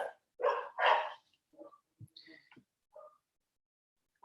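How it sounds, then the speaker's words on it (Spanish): Household dogs barking indoors, two strong close barks up front followed by scattered smaller yips and whines, then quiet. "Perdonen ahí por mis perros."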